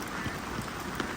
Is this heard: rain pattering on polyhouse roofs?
yes